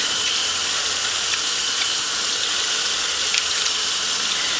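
Tap water runs steadily over raw chicken meat in a kitchen sink, a constant bright hiss of flowing water with no pauses, close and fairly loud, with faint clinks underneath.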